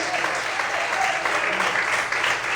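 A church congregation applauds during a sermon, continuous dense clapping filling the room at steady volume, with voices faintly mixed in.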